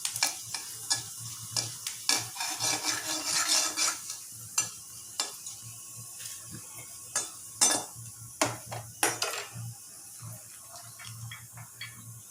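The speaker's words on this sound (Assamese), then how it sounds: "এতিয়া মই পাঁচফোৰণ দিছোঁ।" Panch phoron spices dropped into a hot pan sizzle softly while a utensil stirs and scrapes against the pan in irregular, close clinks and knocks.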